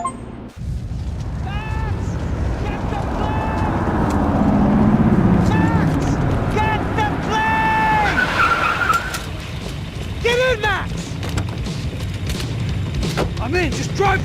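Car engine roaring and tires skidding in the video game Max Payne 3, loud and continuous with repeated squeals, under a man's spoken lines.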